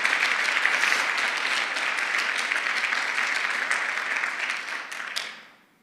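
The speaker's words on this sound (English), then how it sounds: "Can we have a round of applause for Allison?" An audience claps together in a dense burst of applause at a statewide early education showcase, holding steady for several seconds before tapering off and fading out at the end.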